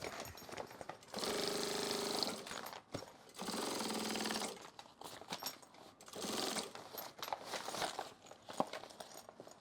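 Sewing machine stitching stiff woven fabric on a duffle bag, three sustained bursts of rapid mechanical whirring separated by short pauses, close and steady.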